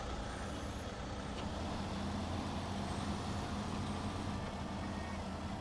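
A steady, low engine of a Pedera STD truck in the video game Snowrunner rumbles continuously at a constant idle, dense and even, with no voices.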